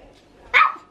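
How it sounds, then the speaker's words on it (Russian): A single short, sharp bark from a small dog rings out close by after a moment of near silence, then fades quickly. "Какие у тебя собачки красивые."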